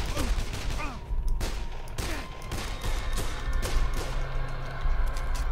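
Rapid gunfire from the zombie game Dead Island, sharp repeated shots in quick bursts at a steady rhythm, loud and close against a busy game background.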